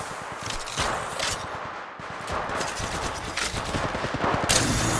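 Rapid bursts of gunfire from an Apex Legends Mobile match, dense and loud, with overlapping shots and rattling automatic fire running almost continuously.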